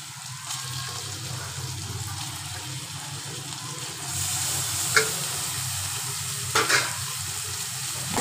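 Chicken pieces frying with onions in a pan give a steady close sizzle, briefly louder midway, with a few sharp clinks of a spoon scraping the pan and no talking.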